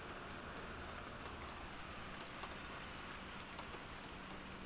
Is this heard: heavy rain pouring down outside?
yes